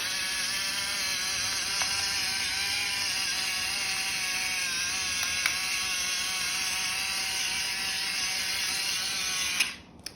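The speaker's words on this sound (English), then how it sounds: "I'm just gonna grind until I think it's about enough." A new pepper grinder turns steadily over a citrus-herb rice salad, making a continuous close, whirring mechanical grind that runs unbroken for nearly ten seconds before stopping abruptly.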